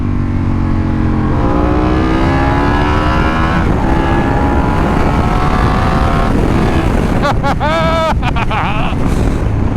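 A Ducati 916 SPS motorcycle is ridden on the road, its engine droning and rising through the revs under heavy wind rush, close and loud, with a rider's voice breaking in briefly near the end.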